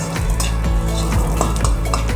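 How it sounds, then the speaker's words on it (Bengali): Sona moong dal fries in oil in a pan after the spices, with a loud close sizzle and rhythmic scraping and knocking as a spoon stirs the lentils. "হালকা করে ভেজে নিতে হবে যাতে পুড়ে না যায়"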